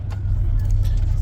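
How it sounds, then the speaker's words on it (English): Steady low engine rumble and road drone from inside a long-distance bus travelling on a road in Ecuador, loud and continuous with faint rattles on top. "After crossing the border, we hopped on this bus, which we'd be spending the next 8 hours on."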